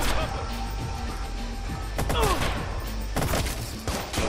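Gunfire in the video game Watch Dogs, a busy mix of sharp shots, impacts and crashes spread across a few seconds of combat, with some game audio beneath.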